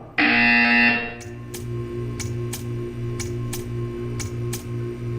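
A loud, harsh electronic buzzer from the video game Portal 2 blares for about a second, followed by a steady hum with regular soft ticking beats.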